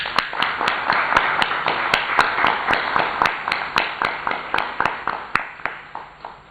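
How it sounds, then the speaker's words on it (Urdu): An audience claps in honor of matric position holders at a Model Town event, with sharp, fairly steady strikes running throughout, moderately loud and close, without speech. "ان کے حق میں بھرپور تالیاں بجائی جائیں"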